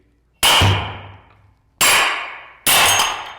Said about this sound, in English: you're gonna take a hammer and you're gonna start hitting it